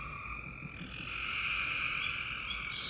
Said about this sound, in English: And our symphony of frogs in the backyard.